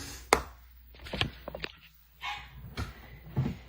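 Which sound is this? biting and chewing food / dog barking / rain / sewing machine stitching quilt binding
dog barking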